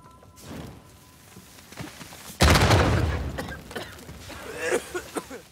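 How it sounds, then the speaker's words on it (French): A sudden loud blast of explosive gunfire bursts in after a quiet start in Uncharted 4: A Thief's End, followed by scattered rattling shots and smaller booms, like a chaotic game battle. "Je suis perdu avec ces explosions."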